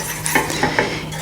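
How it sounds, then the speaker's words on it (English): A whisk stirs pastry cream mixture in a pot over medium heat, giving soft scraping and stirring strokes with a few light clinks against the metal, steady and close. "I'm gonna be using whisk, and I'm gonna be all the time mixing this mixture."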